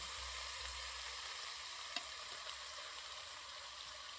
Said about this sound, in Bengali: সামান্য পরিমাণে তেল দিয়ে দিচ্ছি প্রথমে কুমড়োর শাকটা দিয়ে দিচ্ছি